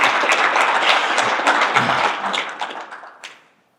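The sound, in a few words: audience applause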